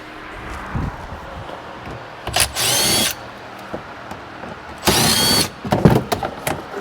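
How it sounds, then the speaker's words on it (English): A power drill backs screws out of a Bennche Spire 800 engine in two loud, close whirring bursts about a second long each, separated by quieter handling noises and light clatter. "I'll have to take these screws out here real quick."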